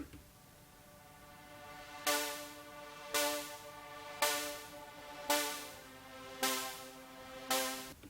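Six loud chord stabs that swell up and cut off abruptly, each roughly a second apart, like guitar power chords played backwards, with quiet noise between them.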